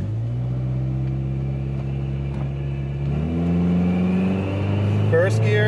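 A car with an automatic transmission and a B&M Hammer shifter runs steadily, then its engine pitch drops and shifts partway through as it changes gears, with someone talking over the steady drone.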